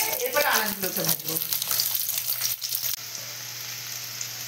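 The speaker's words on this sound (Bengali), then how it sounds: "বেগুন ভাজছিলাম, বেগুনের সঙ্গে কুমড়োটাকে দিয়েও ভেজে নিলাম" Eggplant and pumpkin pieces fry in hot oil in a pan, giving a loud crackling sizzle with stirring scrapes early on that settles into a quieter, steady hiss.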